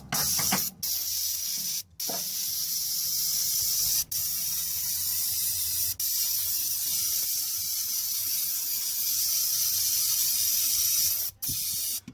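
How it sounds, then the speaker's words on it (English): An aerosol can of brake cleaner sprays in a long, steady hiss, broken by a few brief pauses, close and loud throughout, on a 1968 AMC Javelin 343 engine. "You grab your can of brake clean, you just spray the shit out of it."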